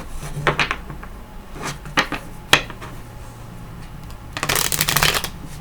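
Cosmic Tarot cards are shuffled by hand in close, papery riffles and slaps, a few separate bursts ending in a longer, louder shuffle.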